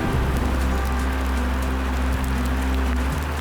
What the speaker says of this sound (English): It's starting to rain and it's pouring.